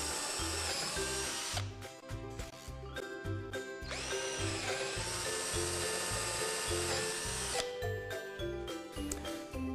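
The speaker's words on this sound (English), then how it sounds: "We're going to drill 4 holes into the corners" A power drill bores holes into the corners of a window opening on a children's playhouse, its motor whirring in two clear bursts with small rattles and clinks between them, set against background music.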